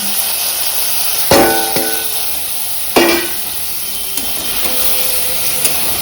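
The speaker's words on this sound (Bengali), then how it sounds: "মাছটা দিয়ে দেবো মানে মশলা ভাজা হয়ে যাবে আর মাছও মশলার সাথে ভাজা হয়ে যাবে" Fish frying with spices in a pan on a gas stove gives a steady, close sizzling hiss, broken by a couple of louder clinks and stirring knocks.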